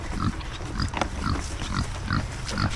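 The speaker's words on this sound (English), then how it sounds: "You curious pigs." Several curious pigs on a farm grunt in short, irregular bursts close by, the snorts overlapping with steady barnyard ambience and no talking.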